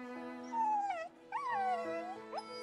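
A weak dog in the Princess Connect video game gives high, drawn-out whimpers and whines, two long wavering cries over a steady game music backdrop.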